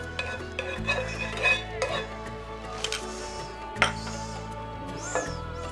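Samosa filling is stirred and lightly roasted in ghee. A spoon scrapes and taps the pan at an uneven pace over a soft sizzle and a low steady hum, up close.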